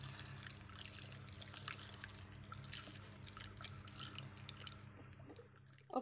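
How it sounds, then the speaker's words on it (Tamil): Homemade vanilla coconut milk shampoo is poured into a pump bottle, a faint soft trickle and drip of liquid running steadily, close by and quiet, ending in a small knock. "இதை வந்து இந்த பம்பு பாட்டிலில் வந்து ஊற்றிக்கலாம்"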